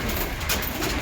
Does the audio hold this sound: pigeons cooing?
yes